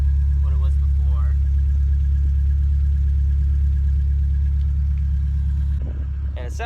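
A car engine idles steadily with a louder, deeper exhaust note, a constant low rumble that carries through the whole stretch. Brief voices come and go over it.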